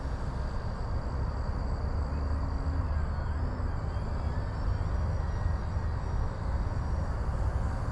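An Arrows Bigfoot 1.3m STOL RC plane flies with a continuous electric motor drone and whine, steady and moderately distant, with wind noise and no talk.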